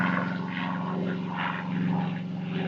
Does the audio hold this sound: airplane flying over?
yes